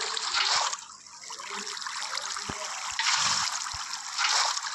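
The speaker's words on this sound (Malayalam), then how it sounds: "ഞാനിപ്പോൾ ഇവിടെ എവിടെ വെള്ളം ഒഴിച്ചു" Water is poured in Minecraft creative mode, heard as recurring bursts of flowing, trickling game water sound separated by quieter stretches with a few sharp clicks.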